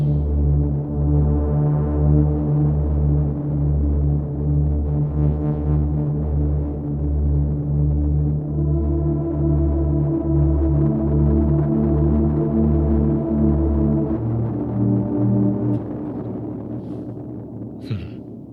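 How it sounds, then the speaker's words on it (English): A Prophet 6 synth plays sustained, throbbing low chords through an Alexander Rewind pedal, smeared in a grungy, lo-fi, dirty mono reverb; pulsing bass notes shift pitch partway and fade into a thinner wash at the end. "I could see that being really beneficial to use as a mono reverb with that grungy, lo-fi, dirty reverb going on"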